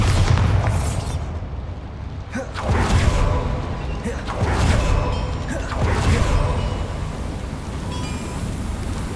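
Bombarda explosion spell cast in Hogwarts Legacy, a few deep booming blasts with whooshing bursts spaced a couple of seconds apart over rumbling game background, with a player voice audible.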